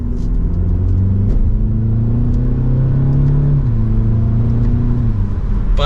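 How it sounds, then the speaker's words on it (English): A 2023 BMW 228i Gran Coupe M Sport turbo engine accelerating mildly from inside the cabin, a smooth rising hum with a quick gear shift partway through, fairly quiet and continuous. "That turbo engine gets us up to the speed that we need."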